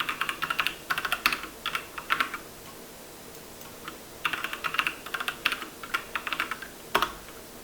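Someone types a password on a computer keyboard in bursts of quick, close, crisp key clicks separated by short pauses, with no talking.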